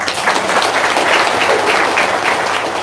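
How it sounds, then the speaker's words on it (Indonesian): An audience at an Indonesian motivational talk breaks into steady, dense applause from many people clapping at once, loud and sustained throughout with no speech over it. "Tepuk tangan dong."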